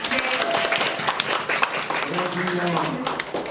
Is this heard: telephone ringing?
no